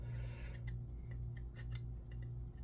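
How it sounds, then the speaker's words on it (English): Old wooden hand planes being scraped clean of years of sawdust and dirt, heard as faint, quick scratchy strokes at irregular moments over a steady low electrical hum. "I'm just gonna scrape each one out, get any sawdust and dirt from over the years out"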